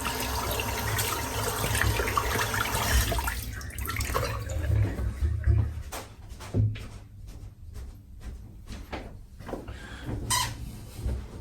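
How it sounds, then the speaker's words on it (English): Water running from a tap while soap is rinsed out of a shaving brush, a continuous splashing flow with knocks and clatters against the sink, fairly close. "Right, rinse the soap out."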